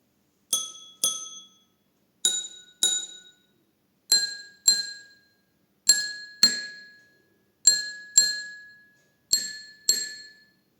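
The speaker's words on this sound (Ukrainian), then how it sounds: "Обережно постукаю по кожній склянці." Water-filled drinking glasses are tapped in pairs, each strike ringing out with a clear, bright tone that decays quickly, different pitches sounding one after another.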